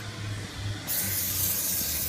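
Water-repellent aerosol spray is applied to an RC car, starting abruptly after a quiet moment and continuing as a close, steady, bright hiss to the end.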